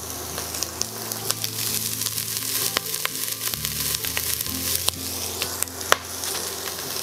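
Onions sizzle and crackle as they fry in smoking-hot oil, with a steady close hiss broken by sharp pops and spatters, and a few faint stirring clicks.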